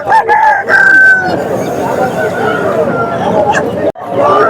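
Large fighting-breed roosters crow at a weekly rural hen and sheep market, loud and close, with a long crow over the busy chatter of the crowd.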